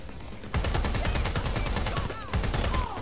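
Rapid bursts of automatic gunfire in the video game Watch Dogs Legion, loud dense volleys of shots in two clusters with a brief pause between them.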